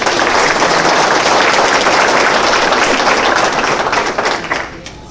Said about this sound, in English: I'd like us all just to give Abby a round of applause.